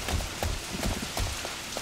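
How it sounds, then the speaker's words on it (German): Rain in the shooter game Blacklight Retribution patters loudly and steadily, a rough even drumming of drops with faint low thuds beneath. "Also bei so einem Regenwetter kann ich echt nicht gut spielen."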